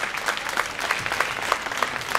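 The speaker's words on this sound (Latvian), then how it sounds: "Noteikti, jums arī aplausi." Brief burst of audience applause at a sport dance competition, steady clapping from a moderately sized crowd, fairly close and even, with no talk over it.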